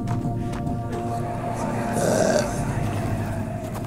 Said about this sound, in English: Can you guys stop burping?